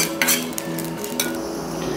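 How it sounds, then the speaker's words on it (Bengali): Whole spices dry-roast in a pan for a mutton curry masala, with a metal spoon scraping and clinking against the pan in several quick strokes, close and fairly loud, over a faint background hiss. "এটা ভাজা হয়ে গেছে, দেখুন আওয়াজ হচ্ছে, একদম ভাজা হয়ে গেছে।"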